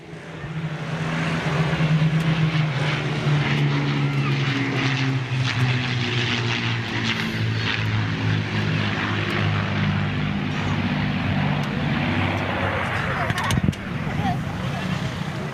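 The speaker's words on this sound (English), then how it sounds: "Lancaster PA 474 from the BBMF, making a pass, Spitfire and Hurricane." The Battle of Britain Memorial Flight's Avro Lancaster bomber PA474, acquired in 1973, flies past with a Spitfire and a Hurricane. Loud, sustained multi-engine propeller drone rumbles steadily throughout at close range.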